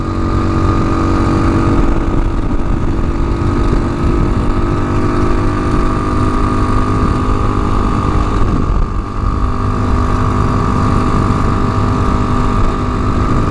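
TaoTao TBR7 motorcycle engine running steadily while riding, a loud continuous drone that holds constant with a brief dip partway through, close and alone with no talk.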